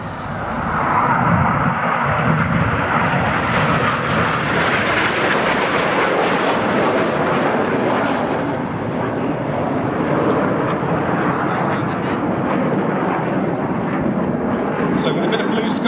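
Red Arrows jets run in over the crowd at the Perth Airshow, a loud continuous roar of jet engines that swells and holds for many seconds, a broad, rumbling wash of noise from aircraft passing close overhead.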